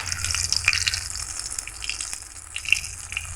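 Fritters made from gondho bhadal leaves fry in a wok of hot soybean oil, a close, steady hissing sizzle broken by sharp intermittent pops and bubbling crackles.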